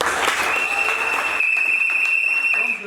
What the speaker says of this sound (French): nous vous demandons d'acclamer fortement pour Naba